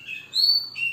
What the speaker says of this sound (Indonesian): Burung saya udah bunyi